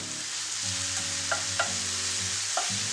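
Onion sizzles steadily in a hot pan for vegetable soup, with a few light clinks of a utensil stirring.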